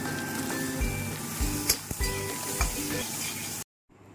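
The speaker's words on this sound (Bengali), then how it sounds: "দেওয়ার পর আমি সব পনিরগুলো এক এক করে ছেড়ে দিচ্ছি, অল্প করে ভাজবো।" Paneer pieces frying in a little oil in a kadai: close, steady sizzling with a few clinks and scrapes of stirring, then the sound cuts off abruptly into silence.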